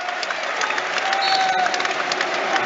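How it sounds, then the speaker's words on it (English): Brentford supporters in the stadium stands applaud a returning Christian Eriksen, a steady wash of clapping and crowd noise at a Premier League match against Manchester United. "you can hear plenty of them here are applauding him as well in the stands too"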